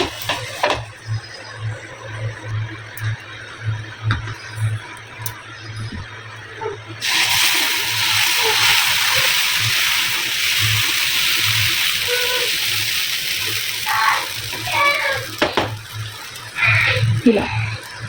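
Pesarattu (mung bean dosa) batter hits an old, hot pan, and a broad steady sizzle bursts in partway through and holds, loud and close, over faint kitchen background.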